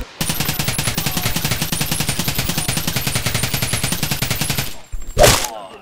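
A SCAR DMR rifle from a Tarkov weapon mod in the game Bonelab fires a long, steady string of rapid, evenly spaced loud shots, then pauses briefly before one final short burst.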